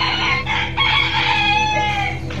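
A chicken crows and clucks at the Assam state zoo, a loud, close, drawn-out call broken into a few bursts with no talk over it.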